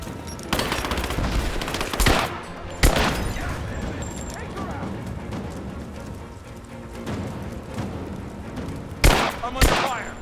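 Gunfire rattles through a firefight in Rise of the Tomb Raider, with sharp loud shots and bursts near the start and end over a continuous busy battle din, while voices shout beneath the shooting.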